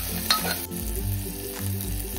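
Finely chopped onion and tomato sauté in hot oil in a pan for masoor dal, giving a steady close sizzle and frying hiss with a few stirring scrapes, over soft background music and no talk.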